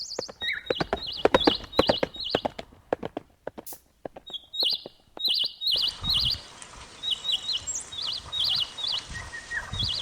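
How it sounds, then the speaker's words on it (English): A farm horse's hooves clip-clop in a quick, fairly loud rhythm for a few seconds, then steady stepping continues while small birds chirp and tweet brightly over it. "Horse."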